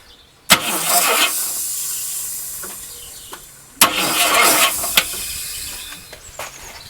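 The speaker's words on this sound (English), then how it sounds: "I'm just going to turn over the engine" A 1968 Rover P5B with no oil pressure cranks over in two loud bursts of starter whirring and hiss, each a couple of seconds long, with quieter mechanical clicks in between.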